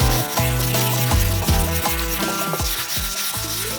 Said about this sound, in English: You want the paper to be sharp when you're doing your block sanding.